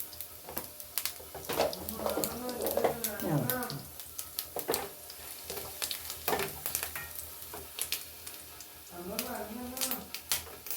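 Mustard seeds sizzle and crackle in hot oil with sharp irregular pops over a steady frying hiss, and a voice talks at intervals.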